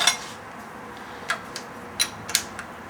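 Metal wrench tightening a swivel seal fitting onto a hose: a few sharp, light metallic clicks and clinks scattered over a quiet background, spaced irregularly as the fitting is turned.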